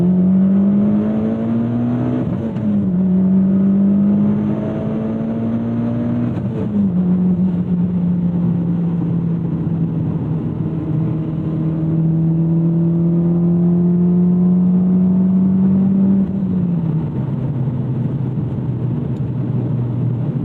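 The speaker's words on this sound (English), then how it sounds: "Let's give you guys a pull uphill." A 2014 Mitsubishi Lancer Evolution X's turbocharged engine pulls hard uphill, its loud droning tone rising through the gears with short dips at each shift, heard from inside the car with no talk.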